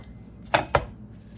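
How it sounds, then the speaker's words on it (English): Smashed garlic cloves and ginger drop into a plastic bullet-style blender cup, making two quick close hard clunks about a fifth of a second apart over faint room noise. "I'm just going to put them right into the blend cup."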